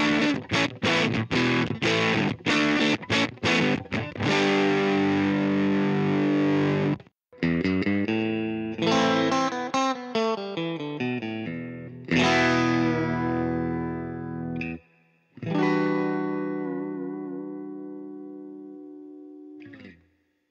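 Distorted electric guitar amplifier picked up by a single inexpensive dynamic microphone, playing fast chugging riffs and then sustained chords with brief gaps, loud and upfront with no talking.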